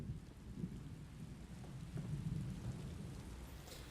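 Heavy rain with rumbling thunder during a tempest in The Elder Scrolls Online Summerset, a continuous dense wash of rainfall with deep low rolls swelling midway, steady and enveloping with no speech.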